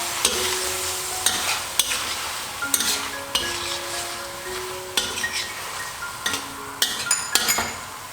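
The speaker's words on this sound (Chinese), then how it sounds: "继续的翻炒" Vegetarian mee goreng noodles are stir-fried in a wok, with a constant close sizzle and frequent metallic clinks and scrapes of the spatula against the wok.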